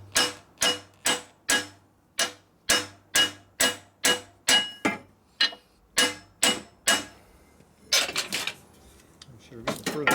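A steady run of about fifteen loud, ringing hammer strikes lands on a Harley-Davidson panhead engine part up close, then gives way to a burst of clattering metal and rustling at the end.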